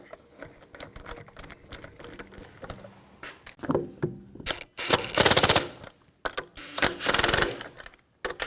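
Lug bolts being snugged down on the rear wheel of a 2000-2006 BMW X5, a close, loud series of rapid mechanical rattling bursts from a power tool, with short pauses between them.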